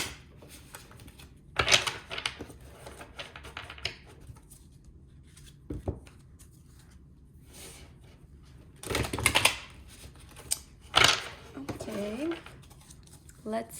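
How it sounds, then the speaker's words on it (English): A deck of cards being shuffled in several quick riffling bursts, close by, with quiet pauses between and a faint voice at the end. "Going to shuffle as always."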